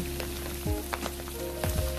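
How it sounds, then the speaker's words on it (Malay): Soft, steady sizzling of anchovies frying in hot oil with small crackles and pops, faint and continuous. "maksudnya dah boleh goreng ikan bilis kita tu"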